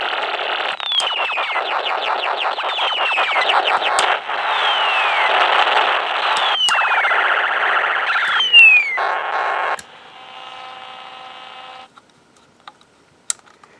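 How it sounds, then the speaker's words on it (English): Electronic sound effects from a Snap Circuits push-button sound circuit: repeated rising and falling siren-like sweeps and chirps, loud and close, then a steady buzzing tone that drops quieter before cutting off, with a few clicks. "now our push button here is just to make different sound effects"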